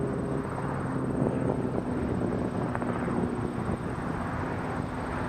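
A fixed-wing airliner at Toronto Pearson Airport gives off a steady, loud, broadband engine roar that holds evenly throughout, with wind noise and no talk.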